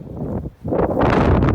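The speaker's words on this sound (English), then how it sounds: "There goes another wind gust." A strong gust of roughly 20 mph wind from a New Jersey winter storm, Kenan, batters the microphone at a beach, a loud, low, rumbling roar that dips briefly and then surges back.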